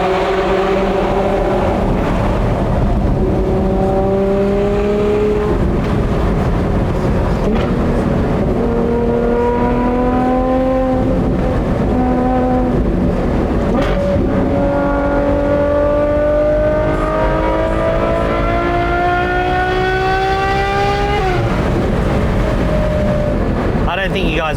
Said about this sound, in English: You want to hear that V12.